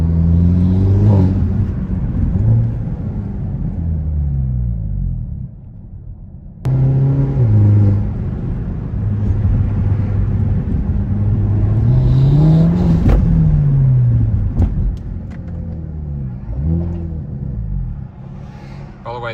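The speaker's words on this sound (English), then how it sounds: "that is our custom tune mode, which right now is set up like this, just to hear that exhaust" A Hyundai Elantra N exhaust in custom tune mode revs and rumbles loudly, rising and falling in pitch as the engine accelerates, with voices talking over it at times.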